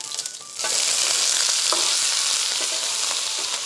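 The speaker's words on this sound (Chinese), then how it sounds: "爆香姜片，放排骨炒一炒。" Pork ribs dropped into a hot wok with ginger slices and stir-fried, breaking into a loud steady sizzle after a brief quieter moment, with occasional scraping stirs, close up and without speech.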